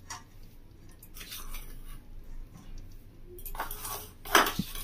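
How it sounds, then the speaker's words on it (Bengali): A spoon scoops bread crumbs into batter in a bowl, with faint scraping and a few sharper metallic clinks against the dish near the end. "এটা আমি 4 চামচ মতো নিয়ে নিচ্ছি ব্রেড ক্রাম্বটা।"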